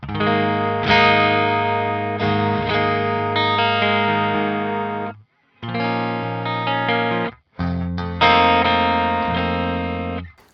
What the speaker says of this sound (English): So here's the absolutely dry, clean sound.